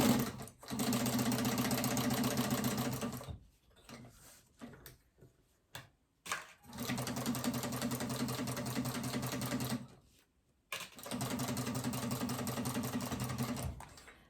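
A sewing machine stitches a fabric phone pouch at a long stitch length, running in two long steady bursts with a few short stops and brief gaps between them, close and alone.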